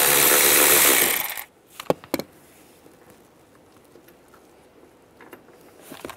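A power tool whirs steadily to back out a bolt from the seat of a 2007-2013 Chevy Silverado, then cuts off, leaving a few sharp metallic clicks and quiet handling noises close by.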